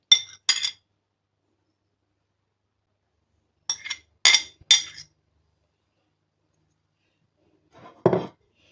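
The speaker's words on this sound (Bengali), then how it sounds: "তো আমি এখন শসা কুচিগুলো দিয়ে দিচ্ছি আর এখানে সালাদ পাতা কুচি।" Chopped cucumber and lettuce pieces dropped into a mixing bowl for a salad, giving a few short, light clinks and soft thuds in separate bursts, close and fairly quiet, with long silent gaps between them.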